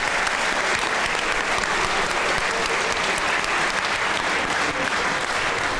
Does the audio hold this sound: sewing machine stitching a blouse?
no